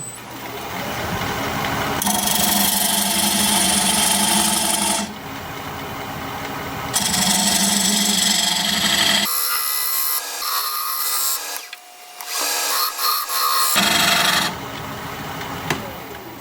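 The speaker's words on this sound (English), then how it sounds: "I'm going to use this diamond point tool to square up the sides of the tenon" A diamond point tool scrapes and cuts a black locust tenon spinning on a wood lathe, making a loud, steady rasping hiss in long sustained passes broken by brief pauses and changes in pressure.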